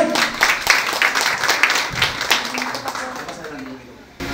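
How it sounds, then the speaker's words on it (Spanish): Guests at a 50th birthday party applaud, scattered hand claps building and fading unevenly over a few seconds, with voices and party chatter mixed in and a quieter tail at the end. "un aplauso para el señor Pablo, por favor."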